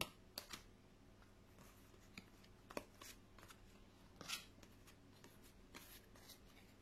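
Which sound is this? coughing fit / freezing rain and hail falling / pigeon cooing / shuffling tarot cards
shuffling tarot cards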